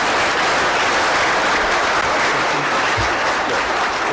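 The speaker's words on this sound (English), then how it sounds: "Let's clap for him." Sustained audience applause fills a formal stakeholders forum hall for the outgoing IEBC chairman, a steady dense wash of many hands clapping at full loudness throughout, with no talk over it.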